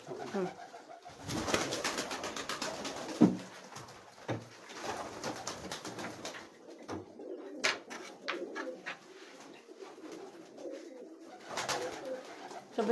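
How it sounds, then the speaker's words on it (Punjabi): Fancy pigeons of the kind used in films coo steadily in a loft, soft repeated throaty calls running throughout at close range, with faint background noise. "ਇਹ ਤੁਸੀਂ ਕਬੂਤਰ ਦੇਖੋ ਇਹ ਸਾਰੇ ਫੈਂਸੀ ਕਬੂਤਰ ਨੇ"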